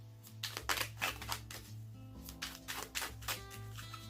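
Tarot cards riffled and shuffled by hand in repeated soft papery bursts, fairly close, over a steady low hum, with no talk.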